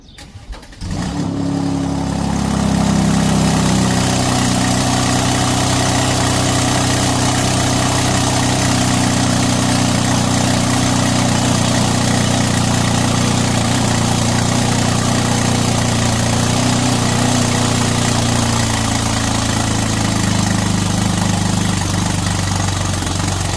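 A 2021 Mercedes-AMG GLC 43 with BTS catted downpipes and loose turbo flange bolts starts and settles into a loud, rough idle, with a steady droning exhaust and a leaky, raspy hiss running for over twenty seconds.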